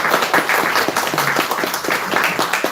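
Congregation clapping in a church during a Sunday worship service, a brisk, close burst of many hands applauding steadily for a few seconds.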